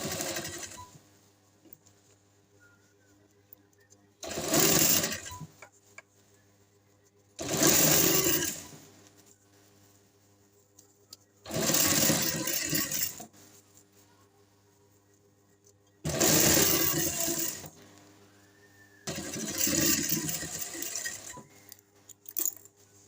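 Sewing machine stitching a neck strip for a garment, five loud bursts of rapid whirring stitches separated by quiet pauses, close up and alone.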